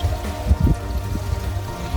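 Small garden waterfall at a hotel in Villaitana, near Benidorm, splashing and trickling steadily at close range, with no talk over it.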